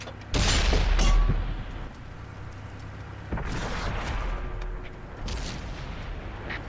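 Tank cannon fire in the console version of World of Tanks, from an Object 430 Version II: two heavy booming shots several seconds apart, each with a long rumbling tail under ongoing battle noise.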